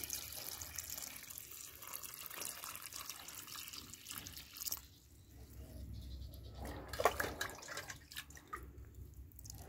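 Water is poured from a container onto a newly planted hibiscus in soil, making a soft, close trickle with dribbles and drips, quiet and without talking.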